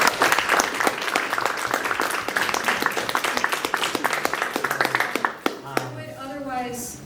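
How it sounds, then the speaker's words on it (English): Large audience applauding a university chancellor at a campus gathering, a dense sustained wash of many hands clapping at close range for about five seconds before tapering off as a voice begins speaking. "So can we have a huge round of applause?"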